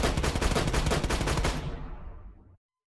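Rapid automatic gunfire in a city crime video game, a dense burst of loud sharp shots lasting about a second and a half before trailing off into silence.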